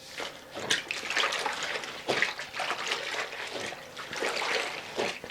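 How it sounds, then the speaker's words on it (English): A mop working a floor with hot Spic and Span Pine solution, wet swishes and sloshing strokes repeating in an uneven rhythm, close and moderately loud. "I will go over the floor twice, rinsing the mop out between rounds in this solution right here"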